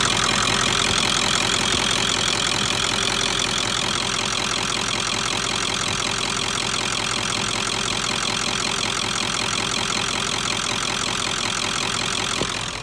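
A Ford F-350 pickup with a 7.3L PowerStroke diesel idles steadily and close by, its loud, even clatter continuous with no pauses and no voices.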